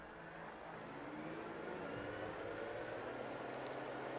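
A light aircraft engine holds maximum power during a run-up check, producing a steady, droning roar that swells slightly and then stays constant, heard from inside at moderate level with no talking.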